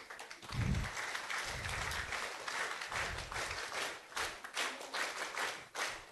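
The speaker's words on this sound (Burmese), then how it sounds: "လက်ခုပ်" Light applause from a small gathering of children and teachers at a prize announcement, soft scattered clapping with a few louder taps, fairly distant and quiet.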